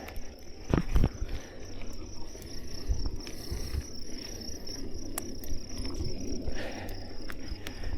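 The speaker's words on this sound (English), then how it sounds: "A lot of crickets." Crickets chirp steadily in a high, continuous trill outdoors on a bike trail in Butterfield Canyon, Utah, with a few soft footsteps or rustles close by.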